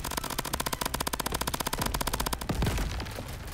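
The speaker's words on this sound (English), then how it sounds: "Firework." Fireworks go off in a video game as a rapid rattling string of crackling bangs, followed by a deeper booming burst near the end.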